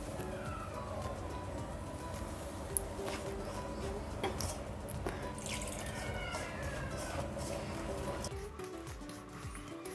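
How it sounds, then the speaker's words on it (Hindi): Water is poured a little at a time onto maize flour dough being mixed in a kitchen, giving a steady trickling, splashing wash with scattered clicks and knocks of handling over about ten seconds. "थोड़ा थोड़ा पानी डालेंगे। आटे को तैयार कर लेंगे।"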